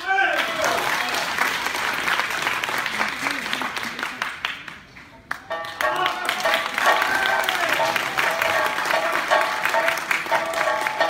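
Audience applause at a Deyun quyi hall performance welcoming a danxian singer, loud sustained clapping with crowd noise, briefly dipping midway before swelling again.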